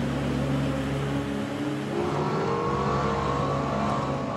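A Lexus LFA supercar drives through the Motomachi plant, its engine note running as a steady, close drone that rises in pitch partway through as it accelerates.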